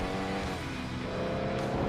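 A car engine revs and roars in the FlatOut 2 racing game, a dense, steady motor drone with rising and falling pitch, loud and continuous without talk.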